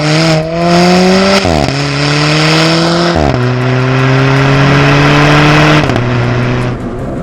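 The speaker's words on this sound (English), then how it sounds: "What you're about to experience is the sound of an Alfa Romeo 4C." A four-cylinder Alfa Romeo 4C sports car engine, remapped, revs hard and loud up close, climbing in pitch through several gear-like steps and drops before easing off at the end.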